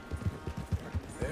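Hoofbeats of a ridden horse in Red Dead Redemption 2 thud in an even, rhythmic trot, close and moderately loud over a soft background.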